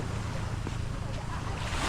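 Sea at sunset along a coast near a resort, heard as a steady broadband wash of waves and wind buffeting the microphone, continuous and fairly loud without distinct breaks.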